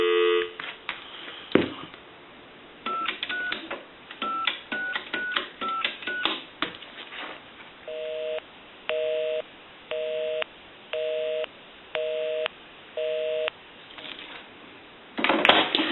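Payphone handset audio: a steady dial tone opens the clip, a short burst of touch-tone digits follows, and then a regular on-off busy signal pulses about six times. A loud clunk at the end sounds like the hook.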